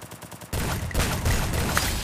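Shotgun blasts in the video game Free Fire crack out as a dense cluster of loud, rapid shots after a brief quieter moment.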